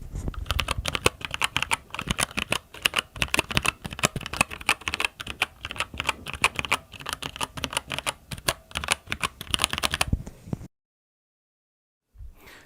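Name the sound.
typing on Keychron keyboard with Gateron switches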